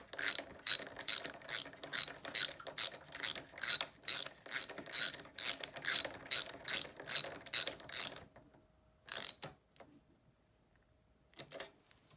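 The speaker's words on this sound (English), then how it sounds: "so 10 mil deep socket for the bottom locking nut, and 12 mil open end wrench for the pivot bolt to keep it in place." Ratchet socket wrench working the bottom locking nut of a Kawasaki KLX handguard with a 10 mm deep socket, a rapid series of crisp clicking bursts for about eight seconds, then a couple of short isolated ratchet clicks after a pause.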